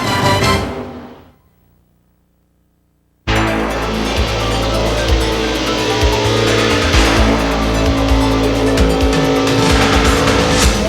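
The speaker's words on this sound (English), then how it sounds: "Gordon has stretched his lead over the Texaco car to over 4 seconds" NASCAR stock cars race in the inaugural 1994 Brickyard 400 at Indianapolis Motor Speedway. The engines roar loud and dense without a break after a few seconds of near quiet at the start.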